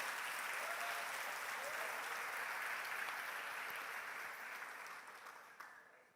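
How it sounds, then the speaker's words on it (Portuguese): Congregation in a church applauding steadily and fairly loud, a dense wash of clapping that holds for several seconds before tapering off toward the end. "Pode aplaudir ao Senhor."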